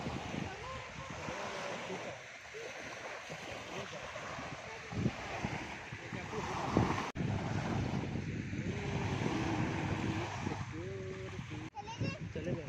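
Ocean surf and gusting wind roll across a beach at the Corniche in Pakistan, a constant washing roar with a few sharp bumps, while adults and children talk over it.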